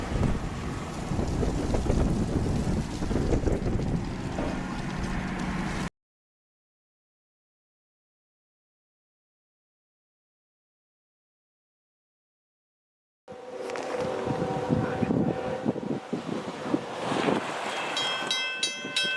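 A moving train, one that strikes a bird mid-air, rumbles past with loud, rushing wind-buffeted noise. It comes in two stretches separated by several seconds of complete silence.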